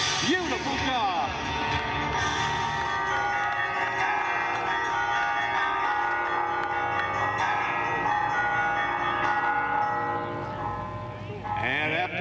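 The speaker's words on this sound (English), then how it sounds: "after the bells have stopped" Church bells peal continuously at an airshow, a dense, ringing wash of overlapping tones that stays loud and steady throughout.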